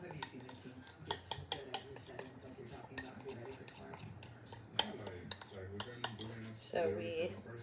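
A utensil stirs cheesy bell pepper filling with quinoa and squash spirals in a pan, giving scattered metallic clinks and scrapes at an irregular pace under a speaking voice.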